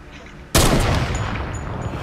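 One sharp, heavy sniper rifle report in Fortnite bursts out of quiet, followed by a long rolling tail of echo that slowly fades.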